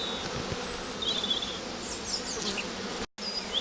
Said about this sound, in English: take this box now and tip all these bees into the top.